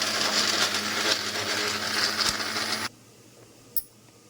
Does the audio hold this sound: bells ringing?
no